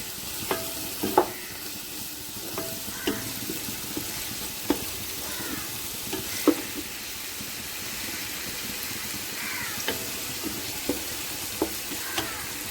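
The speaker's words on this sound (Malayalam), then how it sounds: "അടിച്ചെടുത്ത മിക്സിയിൽ അതും കൊടുത്തിട്ട് നമ്മളിങ്ങനെ നന്നായിട്ട് വഴറ്റി കൊടുക്കുക" Onions with ginger-garlic paste are stirred in a pan: a soft, steady sizzle runs throughout, with scattered clicks and scrapes of a spatula against the pan, close up and with no talking.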